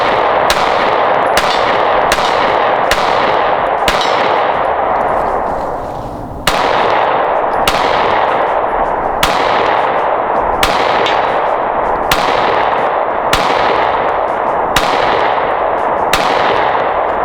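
Canik MC9 pistol fired at steel targets: a steady string of about fourteen loud, crisp shots with ringing metallic decays, broken by one short pause partway through.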